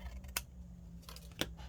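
Scissors trim excess material off a large hidden paperclip craft piece, two crisp snips about a second apart, close and fairly quiet with low room hum between.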